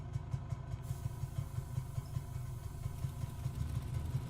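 Savoia-Marchetti S.55 flying boat engines in a video game, a steady low pulsing drone with rhythmic beats, moderately loud and continuous with no talk.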